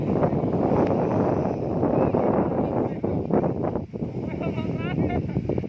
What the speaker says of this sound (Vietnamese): Để thông cảm nha, này gió quá.